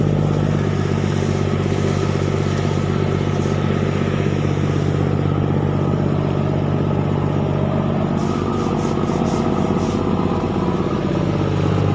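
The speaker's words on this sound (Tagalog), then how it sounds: "maingay kasi yung tambutso" A steady, loud motorcycle engine rumbles throughout with a deep, continuous exhaust drone, close by and running without pause.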